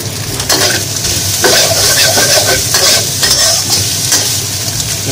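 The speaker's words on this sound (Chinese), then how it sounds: "我们翻炒一下，用大火翻炒" Fried rice with char siu and egg white stir-fried in a wok over high heat, a loud continuous sizzle with repeated scraping stirs close by and no talking.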